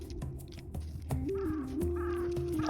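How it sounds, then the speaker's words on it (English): Crows caw outdoors on a hillside, several hoarse calls in quick succession, fairly near and clear over a soft background hush. "Birds are talking to us."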